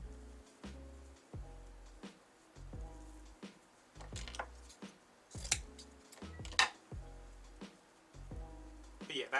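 Scissors snip repeatedly through evergreen material while a Christmas gnome wreath is trimmed, with a series of close, crisp cuts coming in uneven bursts and occasional rustles of the greenery in between.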